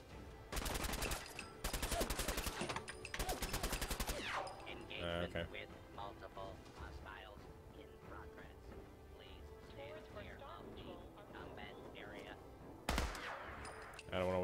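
Gunfire in Fallout 4, Nuka World: three loud bursts of rapid automatic fire early on, then a quieter stretch of game sounds and talk, with another sharp burst near the end.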